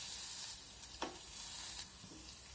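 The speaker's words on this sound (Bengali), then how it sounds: "এখন রসুন আর কাঁচা লঙ্কাটা ভেজে নিতে হবে" Garlic and green chili fry in a pan while being stirred, giving a steady close sizzle with a couple of brief stirring scrapes.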